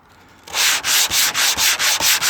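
Sandpaper rubs back and forth over paint on a 1957 Chevrolet Bel Air in crosshatch strokes, seven or eight even, rhythmic scraping passes, close and loud with no talk.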